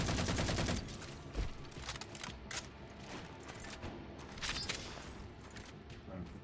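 Rapid automatic fire from a Halo 4 Covenant storm rifle in a firefight, dense bursty shots running continuously with other combat noise, loudest at the start and easing to a steady level.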